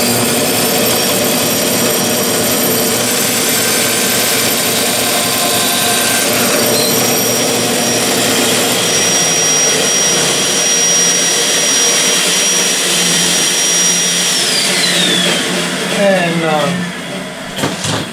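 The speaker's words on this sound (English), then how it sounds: "The advantage of the bandsaw is that the blade has a very, very thin curve" A bandsaw with a very thin blade runs loud and steady while cutting inexpensive lattice wood pieces, a continuous high whine with tonal lines that drops away near the end.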